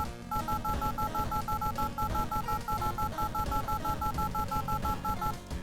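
A phone number is dialed in the horror video game World of Horror, with a rapid steady series of electronic touch-tone beeps under a continuous low droning game soundtrack, no voices.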